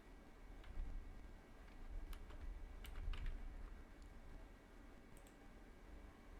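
Typing on a computer keyboard while entering label text into a form, with scattered soft key clicks in uneven bursts over low room noise, fairly faint and with no one talking.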